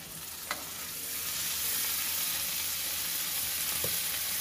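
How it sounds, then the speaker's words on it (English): Butter and pav bhaji mixture sizzle steadily on a hot pan, a broad continuous frying hiss that builds slightly, with a couple of light spoon clicks. "So I'll put 1 tablespoon of butter, spoon of my pav mixture,"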